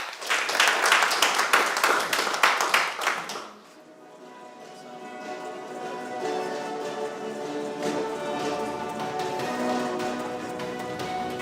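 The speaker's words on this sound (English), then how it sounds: "Let's watch the video with a big round of applause." An audience at a Sunday church service claps for about three and a half seconds, a dense burst of applause that cuts off abruptly into a soft, tonal musical backdrop with no further clapping.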